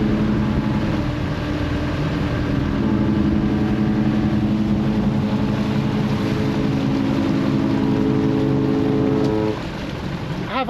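Cunard's cruise ship Queen Anne passes along Southampton Water, her low, steady engine drone rumbling in the background over wind and water noise and fading slightly near the end.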